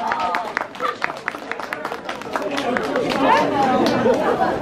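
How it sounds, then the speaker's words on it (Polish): At a dance tournament awards ceremony, the audience claps for the winners in a lively burst of scattered applause that builds into crowd chatter and babble. "Moi drodzy, ogromne brawa dla naszych zwycięzców."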